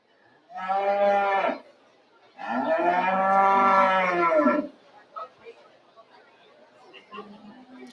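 Beef cattle at a county fair market show give two long, loud moos close by, followed by quieter lowing and faint crowd chatter in the barn.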